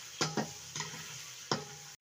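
Onions frying in a pan for Tajik buckwheat pilaf give a low steady sizzle, broken by several scraping stirs of a utensil at irregular intervals, quiet and close.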